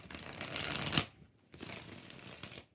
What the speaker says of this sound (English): Let's do 6 shuffles for Lanisha Brown